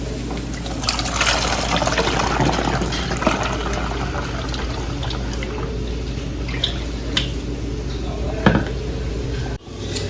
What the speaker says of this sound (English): we're going to take our trusty funnel and put it in one of the airtight plastic jars that I bought